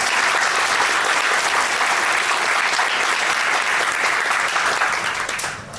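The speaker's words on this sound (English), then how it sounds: "let's give them a round of applause" An audience at a municipal candidates forum in Calera applauds warmly, dense clapping holding steady for several seconds before tapering off at the end.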